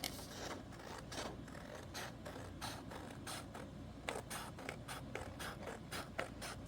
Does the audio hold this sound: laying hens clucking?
no